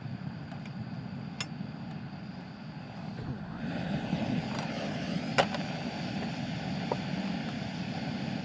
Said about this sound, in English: A little windy tonight.